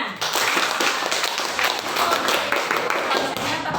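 Hand clapping in a classroom lesson, a loud, dense burst of many people clapping together that fills the whole moment without any pause.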